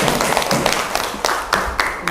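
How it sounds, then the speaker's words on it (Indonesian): Brief burst of clapping from a classroom group during a teacher coaching session, loud and close, with a quick uneven rhythm of hand claps over about two seconds. "tepuk tangan dulu dong"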